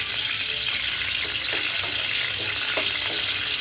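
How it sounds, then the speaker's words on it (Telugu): Masala, ginger-garlic paste and green chilies frying together in a pan, giving a steady, even hiss and sizzle with faint crackles throughout and no talking. "ఒకవైపు మసాలా వేగుతుంది, ఒకవైపు అల్లం వెల్లుల్లి పేస్ట్ వేగుతుంది, ఒకవైపు పచ్చిమిరపకాయలు వేగుతున్నాయి"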